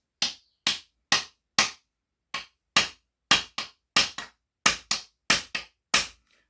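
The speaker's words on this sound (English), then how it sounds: "now we're going to hammer it home" A copper ferrule being hammered onto the tip of a wooden hiking stick: about fifteen sharp, ringing metallic blows in an uneven rhythm, loud and close, with short pauses between strikes and no voices.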